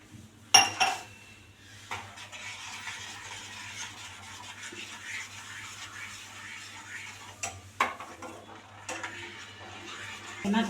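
A spoon stirs hibiscus halwa with sugar in a pan, giving quiet scraping and occasional sharp clinks of metal against the pan over a low steady hum, fairly close and soft.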